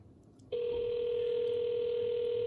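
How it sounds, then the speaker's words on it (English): After a short quiet moment, a steady electronic phone tone starts and holds continuously, clear and close. "It's ringing."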